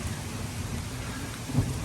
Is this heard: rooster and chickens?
no